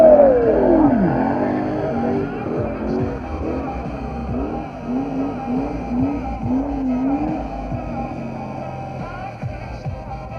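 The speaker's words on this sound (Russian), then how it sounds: "Это значит, что Виталий Никифоров выехал к нам на трек" Drift car engines rev and roar at a Drift Championship of Ukraine round in Vinnytsia, pitch rising and falling in repeated sweeps, loud and close, with a brief sliding whine at the start.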